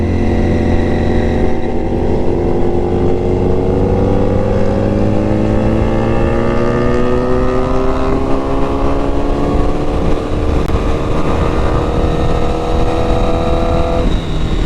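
A sport motorcycle, either a Honda CBR1000RR or a KTM Duke 890, revs loudly and steadily on an open road, with rising whining harmonics and a squeal after the throttle is released.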